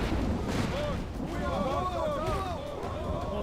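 Troops fire muskets and rumble with artillery in a Total War battle, a dense continuous din of distant shots and booms, with voices talking over the fighting.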